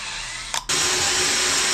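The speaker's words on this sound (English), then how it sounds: "We're going to drill a hole in the door." Power drill boring a hole through a door in a shop: a loud, close, high-pitched whine that stutters briefly, then runs on steadily at full speed, with no talking.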